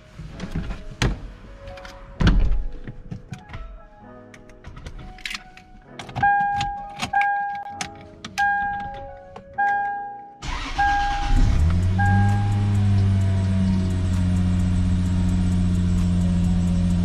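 A Nissan Zenki car with a worn serpentine belt: keys jingle and interior mechanisms click and thunk, then the engine cranks and catches, settling into a steady, loud idle hum that continues to the end.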